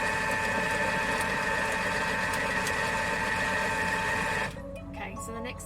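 A Thermomix whirs at a steady high pitch while blending a zucchini frittata mix, running for about four and a half seconds before stopping abruptly, leaving light kitchen sounds behind.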